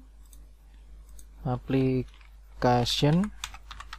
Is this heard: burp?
no